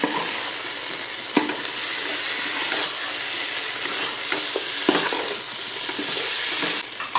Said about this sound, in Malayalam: ഇനി ഇതിലേക്ക് നമ്മൾ വേവിച്ച് വെച്ച ചിക്കൻ ഇട്ട് കൊടുക്കാം ഇനി നന്നായിട്ടൊന്ന് മിക്സ് ചെയ്യാം